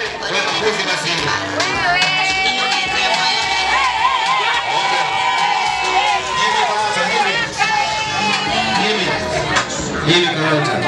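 Lively crowd at a birthday party cheering and shouting over music, with excited voices and chatter throughout; people talk in the midst of the steady din.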